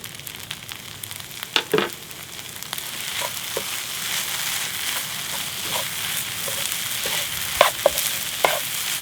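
Kimchi fried rice with seafood stir-fries in a hot pan with a teaspoon of soy sauce, a dense continuous sizzle broken by occasional spatula scrapes and taps, close and without speech.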